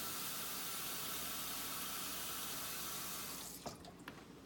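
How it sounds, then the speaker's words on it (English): Water pours steadily into a pan holding chicken, a continuous close splashing rush that stops abruptly near the end, leaving a few small drips and clinks. "So we're going to add some water."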